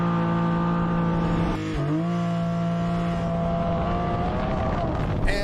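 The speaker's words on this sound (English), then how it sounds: "One of my favorite things about PDK is the ease of launch control" A Porsche with a PDK dual-clutch gearbox sits on launch control in Sport Plus, its engine held at a loud, steady rev before a brief dip as it launches, then pulls hard and strong, close by.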